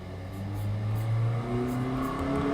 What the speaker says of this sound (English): Okay, car, I hear you.